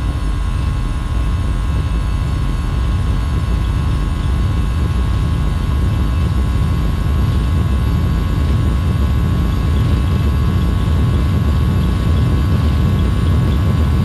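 Simulated A320neo engines in X-Plane roar at takeoff power. The sound is a loud, continuous, rumbling wash that holds steady throughout without any speech.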